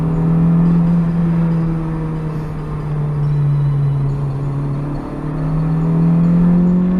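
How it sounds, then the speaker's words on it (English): A Honda Integra DC5 drones close by with a throaty, even intake and exhaust roar, rising and easing slightly in load without any speech. "Nice noise from that intake as well, and a similar noise from the exhaust."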